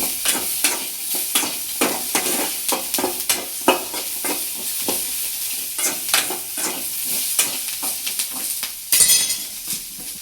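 Soybean chili with vegetables is stir-fried in a hot pan, a loud continuous sizzle broken by rhythmic metal scrapes and clinks of a spatula against the pan, with a brief sharper burst near the end.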